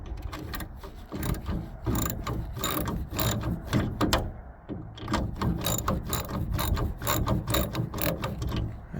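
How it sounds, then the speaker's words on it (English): A ratchet fitted with a 10mm socket clicks in rapid, repeated bursts while loosening the nuts that hold the front grille emblem on a Ford F-150, close and loud, with one brief pause midway. "So you will need a ratchet with a 10mm socket."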